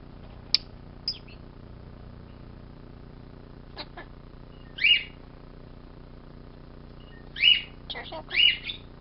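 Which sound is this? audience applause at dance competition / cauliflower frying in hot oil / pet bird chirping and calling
pet bird chirping and calling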